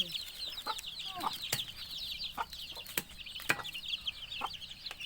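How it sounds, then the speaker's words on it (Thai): Chickens cluck and chatter inside a coop at feeding time, a busy layer of many close and distant birds with sharp knocks and taps breaking through now and then. "ไก่"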